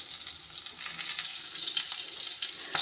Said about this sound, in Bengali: আমি আগে জিরেটাকে ভেজে নেব আর তাতে কি হবে কাঁচা লঙ্কার গন্ধটাও সুন্দরভাবে তেলের মধ্যে মিশে যাবে